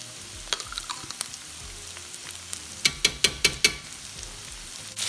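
Keema frying with tomato paste in a pan for stuffed naan, a steady low sizzle with scattered crackles and a quick run of five sharp clacks near the middle, close and moderately loud.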